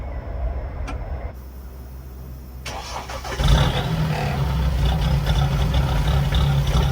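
A Mahindra Roxor engine cranks briefly, then catches and settles into a steady, loud idle, close by, after a short stretch of quieter background hum.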